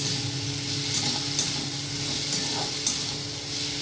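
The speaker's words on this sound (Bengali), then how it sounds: "আলু একটু ভেজে দিলে ভালো চচ্চড়িটা বেশ টেস্ট হয় আর গন্ধটাও ভালো।" Potatoes with turmeric frying in a pan, giving a steady close sizzle throughout with a few soft stirring scrapes and no voices.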